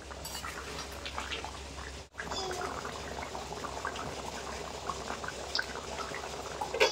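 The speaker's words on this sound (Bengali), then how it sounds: "এবার দিয়ে দেবো ভেজে রাখা মাছ, মাছ দিয়ে আর একটু ফুটিয়ে নেবো" Rui fish curry with potato and pointed gourd simmering in a pot, with fried fish pieces going in. The close, steady bubbling and liquid noise runs throughout, breaking off briefly around the two-second mark before continuing.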